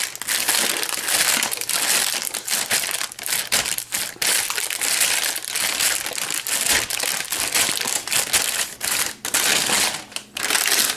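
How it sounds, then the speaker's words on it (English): Parchment paper crinkles and rustles as a warm mixed-nut chikki mass is pressed flat, giving busy close crackling and crumpling that runs on steadily with short pauses. "Press with parchment paper."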